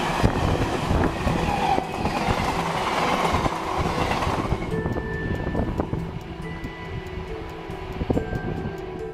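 A train rushes past nearby with a loud, rumbling roar and clattering rail noise that thins out partway through into steady rolling and occasional clanks.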